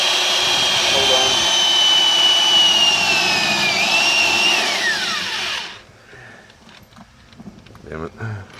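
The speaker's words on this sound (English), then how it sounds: "Drill's not tight enough. Bit started cutting through and it started slipping on me." A loud electric drill whines steadily, its pitch wavering and then dropping as the bit slips, before cutting off into quieter clatter and a brief voice.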